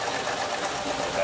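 A sewing machine runs fast and steady, stitching the short fabric walls onto a structure, its buzzing motor steady over a brief moment.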